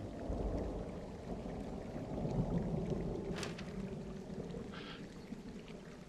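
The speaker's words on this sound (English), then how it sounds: "Even though we have that incoming storm." An approaching thunderstorm in the video game Firewatch comes through as a low, rumbling wash of distant thunder and rain-like noise. A brief sharp crack lands midway, and there is no talk.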